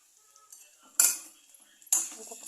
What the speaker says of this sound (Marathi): आता त्याच्यामध्ये उकडलेला बटाटा क्रश करून घाला